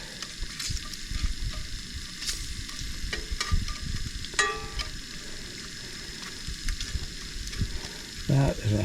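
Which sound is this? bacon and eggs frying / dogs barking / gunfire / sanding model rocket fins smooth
bacon and eggs frying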